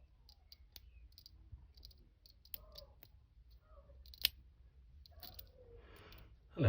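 A lock is picked with a hair grip, giving sparse, faint metallic clicks and light scrapes close by, ending with a louder knock.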